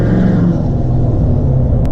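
Ford F350 pickup truck driving on the road, with a steady low engine rumble and road noise that stays loud and constant throughout, close and without any voices.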